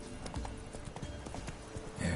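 Roach, a horse in the video game The Witcher 3, trots on with a steady, even clip-clop of hooves, moderately close and fairly quiet.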